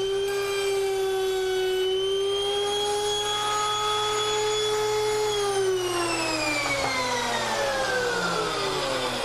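A hand router cuts a through rabbet in wooden boards, its motor a steady loud high whine that holds for several seconds and then slowly drops in pitch as the cut ends, close by with no talk.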